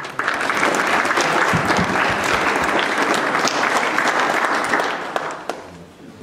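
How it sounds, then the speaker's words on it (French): Audience at a floral decoration competition event applauding: dense, sustained clapping from a crowd for about five seconds, fading out at the end, with some voices mixed in. "Je pense qu'on peut les applaudir."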